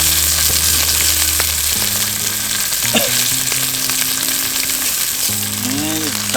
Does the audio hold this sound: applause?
no